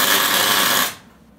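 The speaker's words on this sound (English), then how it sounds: "Power drill." A power drill used as a drive motor on a 4 kW drill-powered utility go-kart runs with a loud, rough whirring roar, then cuts off abruptly after about a second.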